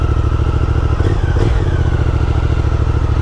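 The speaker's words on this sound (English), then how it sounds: "Oh, another great sounding bike." A Triumph motorcycle engine runs close and loud with a sporty note, a steady throbbing idle with a couple of brief blips of revving partway through.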